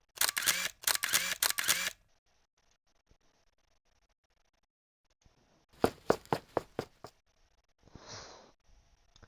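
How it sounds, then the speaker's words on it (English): An SLR-style camera shutter fires in quick bursts of sharp clicks, close and clear: a loud cluster at the start, then another rapid run of clicks after a quiet gap, ending with a soft hiss. "the gleeful sound of the camera shutter was all just as it was the other day before"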